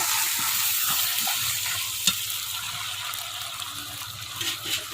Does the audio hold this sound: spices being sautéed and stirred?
yes